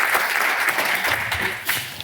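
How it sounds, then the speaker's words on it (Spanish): Applause from an audience at a business presentation event, a steady patter of clapping hands filling the room, moderately loud and continuous. "lo primero que pido es un aplauso para que suban"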